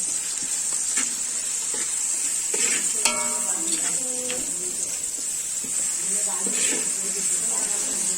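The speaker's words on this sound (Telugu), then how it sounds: "ఇది బాగా డీప్ ఫ్రై అవ్వాలి, అంటే అల్లం వెల్లుల్లి పచ్చివాసన అనేది పోవాలి." Ginger garlic paste sizzles steadily in a hot pan as a biryani base, a constant bright frying hiss with occasional scrapes and clinks of a spoon stirring against the pan.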